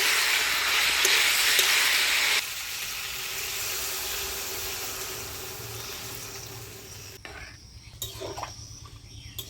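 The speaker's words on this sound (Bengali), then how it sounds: "মশলা দিয়ে পেঁপেটা ভালো করে কষিয়ে নিলাম। এবারে জল দিয়ে দিই।" Water is poured into a hot pan of spice-fried papaya, setting off a loud, steady rushing sizzle that gradually eases and turns to sputtering bubbles toward the end.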